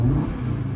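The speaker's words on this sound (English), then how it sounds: "Drive mode, I have RS2 configured to be the sporty, spicy sound. Let's give it a couple revs" An Audi RS Q3 five-cylinder engine in a sporty drive mode, heard in a brief, close, low rev with a throaty rumble.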